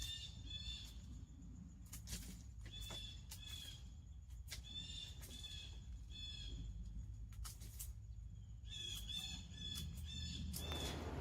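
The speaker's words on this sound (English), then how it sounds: "That bird sure had a lot to say, didn't it? In the background, making all that noise." A bird calls repeatedly outdoors in bursts of bright chirping phrases separated by short pauses, fairly faint over a low background rumble.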